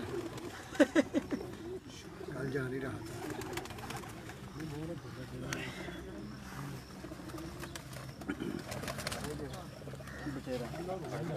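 Pigeons coo in low, soft throaty bursts, a few clearer calls early on, amid a busy background with voices murmuring.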